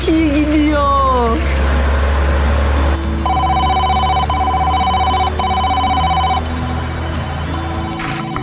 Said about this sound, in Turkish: Telefonum çalıyor.